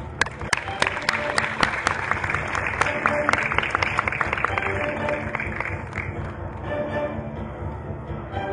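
Audience applause fills a conference hall at a coworking event in Nigeria, a dense steady wash of clapping with some sharper individual claps early on, sustained throughout and slightly easing toward the end.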